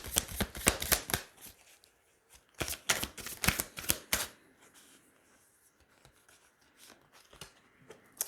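Tarot cards are shuffled in quick riffling bursts, close and crisp, with a pause between two shuffles and quieter card handling afterward, and no talk.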